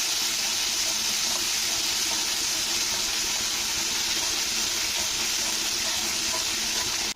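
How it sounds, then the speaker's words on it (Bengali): Mustard paste stirred into hot oil for a tilapia fish curry gives a dense, constant hissing sizzle, loud and unbroken from start to finish. "তো তেলটা যে আছে তার মধ্যে আমি দিয়ে দিচ্ছি এই বাটা সর্ষে বাটাটা"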